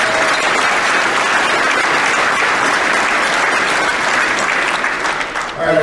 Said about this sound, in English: I'd like to give Sergeant O'Neill a round of applause today